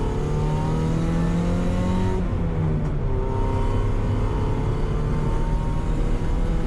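Engine of a 1993 first-generation Mazda MX-5 NA, a steady loud hum with layered harmonics whose pitch dips briefly midway, then settles back into an even drone, close and alone.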